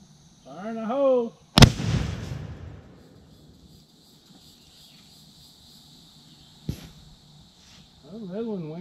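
An M6 mortar fired outdoors on a testing range gives one sharp, loud launch report that decays over about a second, followed later by a fainter distant thump, with people talking before and after.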